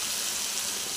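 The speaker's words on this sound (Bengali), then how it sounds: "তো ঠিক এই পর্যায়ে আসার পর জল দিয়ে দিতে হবে।" Water pours into a pan of cooking vegetables, a brief steady gush of splashing liquid heard close and alone.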